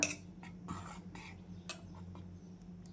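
A spoon stirs sweet raw-mango murabba in a pan over low heat, scraping and clinking against the metal in irregular strokes with a soft sizzle, quiet and close.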